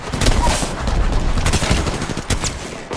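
Rapid bursts of gunfire fill a ranked battle-royale match in a video game, dense overlapping shots crackling loud and close for the whole stretch, with brief voice chatter between bursts.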